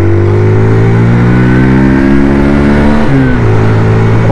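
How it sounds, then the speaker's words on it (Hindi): A 2023 Hero Xtreme 160R 4V, a 160cc motorcycle, accelerates uphill on a mountain road. Its loud, close engine drones and climbs steadily in pitch, with a brief dip like a gear change near the end. "बाइक कितना जोर लेती है।"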